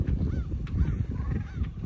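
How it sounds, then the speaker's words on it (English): Ducks call out over the salt water in a few short, honking bursts, set against a steady low rumble of wind and surf. "You get all those ducks out there"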